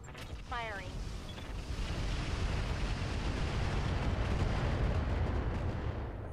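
Weapons fire in the BattleTech mod RogueTech from mechs carrying LRM-15 and TBM-5 launchers: a brief whooshing launch, then a continuous roar of rumbling explosions and artillery-like blasts that builds and holds loudly to the end.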